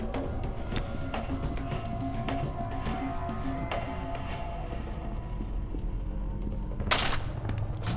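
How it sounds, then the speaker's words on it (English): The nail gun in F.E.A.R. 2 fires a steady stream of sharp, clattering shots amid dense game combat noise, close and loud throughout, ending in a brighter burst near the end. "the nail gun, let's go"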